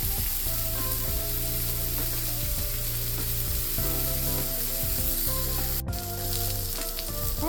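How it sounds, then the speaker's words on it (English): Loud, constant sizzling of a ribeye steak searing in a hot pan, with occasional scraping and clicking sounds from kitchen tools. "We want to let that side cook and sizzle and get a nice color"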